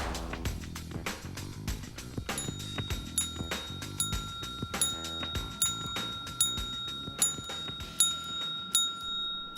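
A bicycle bell rings repeatedly during a hearing-distance perception test, its bright metallic rings arriving in a rhythmic series over a busier background of clicks and taps.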